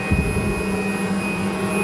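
A cordless 20-volt garden vacuum runs at a steady, loud whine with a whooshing airflow roar, continuous and close throughout.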